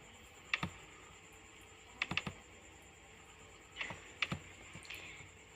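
Typing on a computer keyboard while working in MS Excel: a few soft, close key clicks come in small clusters separated by pauses, with no voices.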